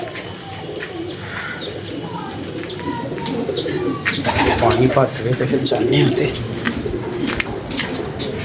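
Pigeons coo and chirp around a rural rooftop, the calls steady through someone talking, with a louder burst of rustling and cooing midway.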